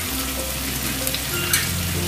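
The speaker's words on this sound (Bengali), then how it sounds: "দেখো আলুগুলো দিয়ে 2 মিনিট নাড়াচাড়া করে এবারে আমি ডাঁটাগুলোকে দিয়ে দেবো" Potatoes with a little turmeric stir-fried in a pan, giving a steady, close sizzle of frying with faint stirring scrapes and no talking.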